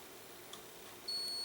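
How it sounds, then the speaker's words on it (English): A thin, steady electronic beep sounds as a tool makes electrical contact with the work on a metal lathe, starting abruptly and holding faint but clear over quiet workshop hum. "you should be able to hear the beep when I connect."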